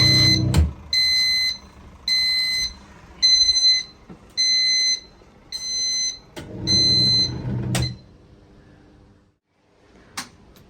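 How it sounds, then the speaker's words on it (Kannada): A budget washing machine signals the end of its wash cycle with a string of about six short, evenly spaced electronic beeps, loud and close, with a few dull knocks in between. "ಆ್ಯಂಡ್ ಆಗಿದ ತಕ್ಷಣ ಬೀಪ್ ಕೂಡ ಆಗುತ್ತೆ"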